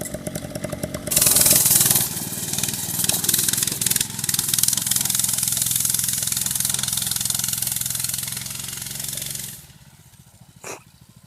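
A Kawasaki 80cc trail bike engine rides down a steep hill, a steady mid-pitched motor drone that stays loud and close for most of the stretch, then drops away sharply near the end.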